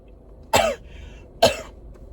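Two sharp coughs from one person, close and loud, about a second apart with quiet between them.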